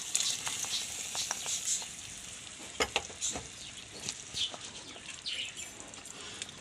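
Hot oil tempering with fried onions and curry leaves poured into mackerel curry in an earthen clay pot, giving a steady close sizzle with scattered sharp crackles and pops, no voices.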